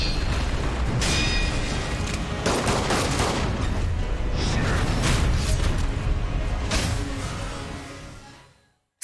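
Heavy gunfire and booming blasts in the Sekiro: Shadows Die Twice fight against Isshin the Sword Saint, a loud, dense barrage with sharp bursts throughout that cuts off abruptly at the end.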